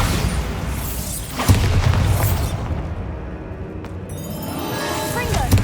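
A Bombarda spell blast in Hogwarts Legacy, a loud booming burst with a rumbling tail that fades into quieter game ambience, with a voice speaking briefly.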